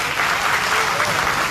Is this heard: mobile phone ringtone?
no